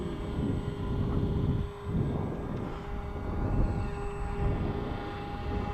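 A RingRat 250 half-A size model airplane in flight, its small engine giving a steady droning buzz that rises and falls slightly as it circles, with wind rumble and no talking.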